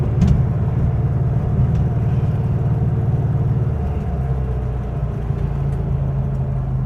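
A 1966 VW Type 3 car drives along with a steady low engine rumble and road noise, the engine note dipping and shifting around the gear change, with no voices.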